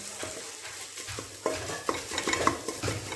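A spoon scrapes and clanks around a pan over a soft, steady sizzle, with several sharp metallic knocks close by and no talking.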